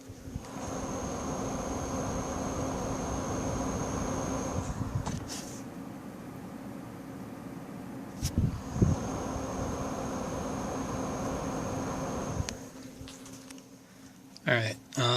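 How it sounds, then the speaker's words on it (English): A steady whirring hum from an R9 290 graphics card fan, heard right next to the computer, runs throughout at moderate level, with a few sharp clicks and brief bumps of handling. "So this is face level with mouse clicking and the fan."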